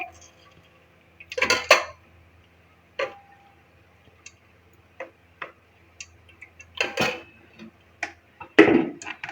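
Ghee goes into a pot for black-pepper white chickpeas, making a few sharp metallic clinks and taps of a spoon against the pot, spaced out over quiet moments with no talk.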